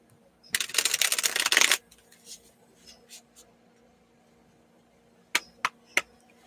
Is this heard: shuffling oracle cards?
yes